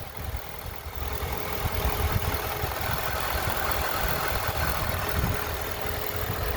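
A 2014 Ford F-150's 5-liter V8 with an aluminum hood idles steadily nearby, a continuous low rumble and hum holding an even level throughout with no talking.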